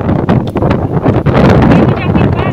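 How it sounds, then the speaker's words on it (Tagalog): Strong wind buffeting a microphone on Mount LAB near Dapitan City, loud gusty roaring and rumbling that swells and dips in quick bursts. "ang lakas talaga ng hangin"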